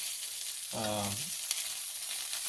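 Salmon fillet searing in a hot pan, a steady close-up sizzle and crackle throughout, with a brief spoken voice partway through.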